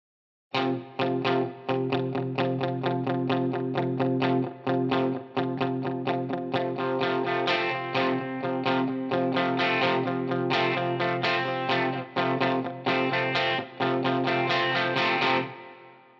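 Distorted electric guitar, run through a Line 6 Helix modeler with plate reverb, playing a steady run of pick-played notes with a wide, shimmering reverb tail, loud and continuous, ending abruptly.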